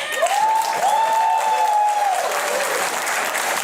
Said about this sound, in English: now I want to hear a round of applause